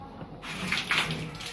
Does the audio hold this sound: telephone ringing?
no